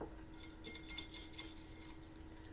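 A whisk or spoon stirs sugar, vanilla sugar and a pinch of salt in a bowl for a chocolate cake batter, a faint quick run of light metallic clinks and scrapes against the bowl.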